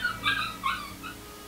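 A dog makes a few short high whimpering yelps in quick succession, faint and close, with quiet background hum.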